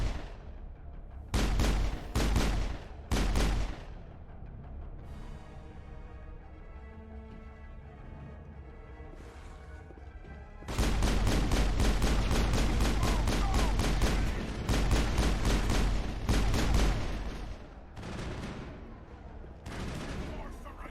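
Weapons fire in the video game Mass Effect comes in loud, rapid bursts of gunfire, two short volleys early, then a long sustained barrage of shots with a gap between that holds lower rumbling game sound.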